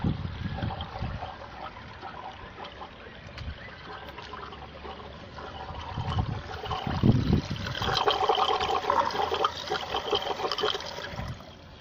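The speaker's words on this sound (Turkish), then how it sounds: "Burada depomuz doluyor." A water tank on a rooftop greenhouse fills through a float valve, with a soft, continuous trickle and splash of inflowing water that swells somewhat louder in the latter half, heard quietly without talk.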